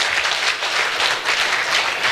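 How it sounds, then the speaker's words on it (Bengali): An indoor audience at a corporate event hall claps in sustained, dense applause, loud and steady throughout with no other sound. "আমাদের মাননীয় প্রধানমন্ত্রীর জন্য একটি জোরসোরে করতালি আশা করছি"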